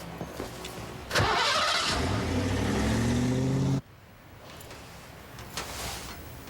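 Car engine in a film cranks and catches with a sudden loud roar, revving steadily for a few seconds before cutting off abruptly to quieter background sound.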